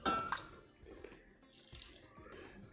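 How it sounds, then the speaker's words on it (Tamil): Water poured into a pan holding 200 grams of jaggery to dissolve it for wheat flour payasam, a short splashing pour at the start followed by softer trickling and dripping, close and fairly quiet. "முன்னாடி கொஞ்சமாக தண்ணி விட்டு கரைச்சிக்கலாம்."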